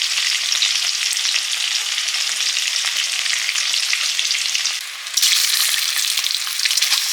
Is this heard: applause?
no